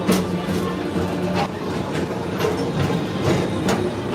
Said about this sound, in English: This is the TTA Blue Line, non-stop service around tomorrow